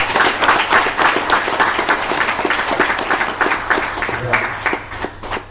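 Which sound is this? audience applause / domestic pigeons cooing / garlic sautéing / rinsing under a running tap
audience applause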